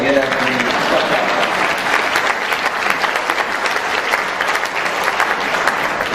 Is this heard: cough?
no